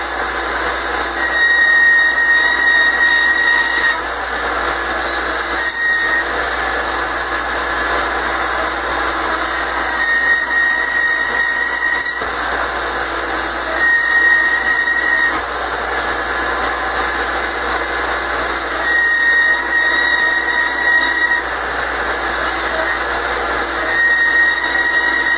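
An angle grinder works steadily on metal corners during a MIG welding repair job, a loud, continuous high-pitched whine with a few brief pauses and shifts in tone as the disc bites.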